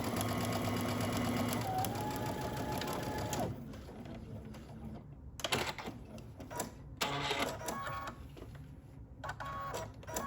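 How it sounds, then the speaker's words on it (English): A home sewing machine stitching a garment seam at a 5/8-inch allowance hums steadily and loudly for a few seconds. It then shifts to quieter, uneven bursts of stitching and mechanism clatter. "so we're just going to stitch using 5/8 of an inch seam allowance"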